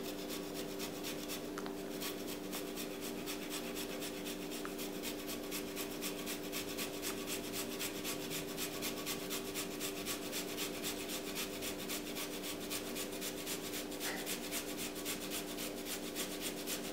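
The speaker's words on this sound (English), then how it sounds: "And then we are going to grate in some of our ginger." Fresh ginger rasped on a grater while preparing paleo ribs, a steady continuous scraping rub that runs evenly for the whole stretch with no talk over it.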